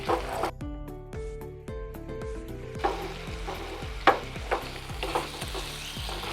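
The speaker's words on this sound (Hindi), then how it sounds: "देखो आमर पियाज और कैप्सिकम भाजी हो गला।" Onion and capsicum fry in a pan for paneer masala, sizzling steadily up close, with periodic scraping stirs of a utensil against the pan.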